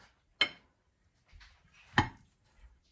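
A knife cutting into a cooked steak on a plate, served with ranch style beans, giving two short clinks and scrapes of metal on the plate with soft handling noise between, close and fairly quiet.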